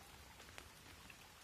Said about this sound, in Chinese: 还在下雨啊！